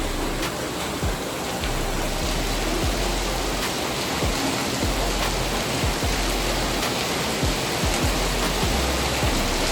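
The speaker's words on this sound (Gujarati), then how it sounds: "ધોધમાર વરસાદ વરસી રહ્યો જો તમે જોઈ શકો છો." Heavy rain pours steadily at night, a dense, unbroken hiss with occasional soft thuds of drops, constant and even throughout, with no voices.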